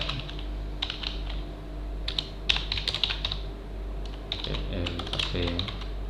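Keys clatter on a computer keyboard in short irregular bursts of taps, close and fairly quiet, over a low steady hum with a few soft clicks between.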